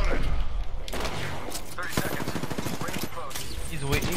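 Rapid bursts of gunfire from the video game Apex Legends crackle in short volleys, with a player talking over the shooting.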